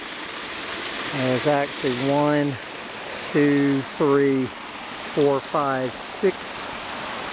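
A waterfall spills into the upper pool of a hot spring in the open air, making a steady broadband rush that runs throughout beneath a person talking close by.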